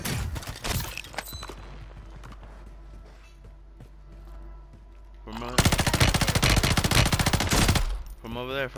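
Automatic gunfire from Call of Duty Modern Warfare III in a Warzone duos Resurgence match, loud sustained bursts dominating the second half after quieter game ambience, with players talking over it.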